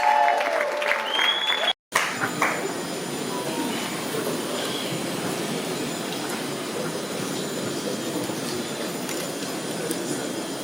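A congregation at a church conference in a hotel cheers and applauds as a matriarch walks forward, making a loud, sustained wash of clapping and shouting after a brief burst of music.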